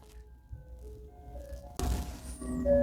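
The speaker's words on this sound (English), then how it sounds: "This ice cream truck is still gonna keep fucking going on." Ice cream truck driving by, its tinny jingle tune playing in sustained tones that jump louder partway through, mixed with a burst of engine and road noise.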